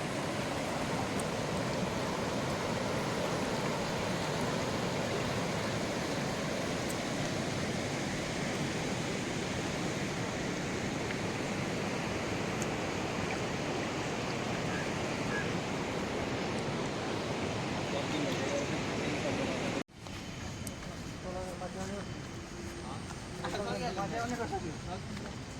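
Jhimruk river water rushing steadily, a loud broadband flowing roar for about twenty seconds, then softer water under faint voices and background sounds.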